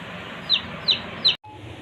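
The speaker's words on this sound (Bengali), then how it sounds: "দেখুন একটা মুরগি অসুস্থ মনে হয়" A sick young farm chicken gives three short, high, evenly spaced peeping clucks close by, with a quiet background and no talk.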